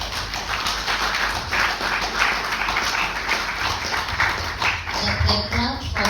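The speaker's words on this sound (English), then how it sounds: "The clap for you goes without saying." Steady applause from an audience at a speech event, dense and sustained clapping with voices mingled in throughout and talk rising near the end.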